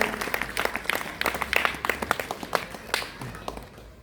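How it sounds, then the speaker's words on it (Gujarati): A school audience claps steadily, a dense patter of many hands that swells slightly and then tapers off toward the end. "જોરદાર તાળીઓથી વધાવીશું અભિવાદનને"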